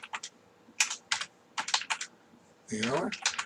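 Computer keys clicking in short, close bursts of taps, with a brief stretch of speech toward the end.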